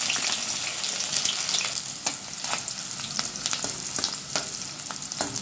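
Chopped onions hissing and sizzling in hot oil in a pan for Chinese-style Maggi noodles, a dense, steady frying crackle with scattered sharp pops and spatula scrapes, no voices.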